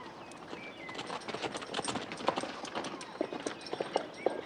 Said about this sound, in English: Well, I've never seen that many horses in all my life.